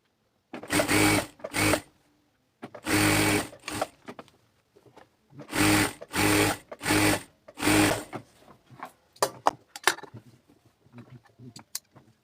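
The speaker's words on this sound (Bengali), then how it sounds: "এখন আমরা সেলাইটা করে নিই" Sewing machine stitching a kameez, several close bursts of rapid running each lasting about a second, separated by short pauses, followed by lighter clicks and handling sounds.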